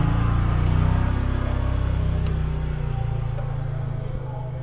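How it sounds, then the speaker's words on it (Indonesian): A motorcycle passes along a road near a parked Toyota car, its engine a loud low hum close at first that gradually fades as it moves away. "Motor lewat."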